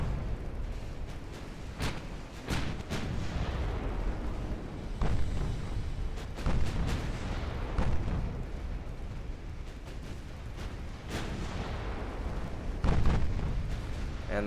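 Warship main guns fire repeatedly in the naval video game Ultimate Admiral Dreadnoughts, with heavy booming blasts every second or two over a constant rumbling battle din.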